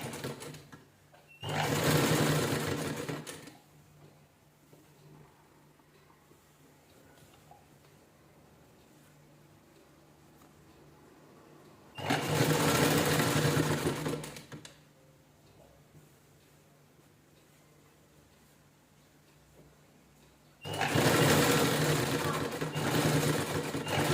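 A sewing machine stitches a folded strip on a velvet blouse in three loud, steady bursts of rapid whirring, each lasting a few seconds, separated by long quiet pauses.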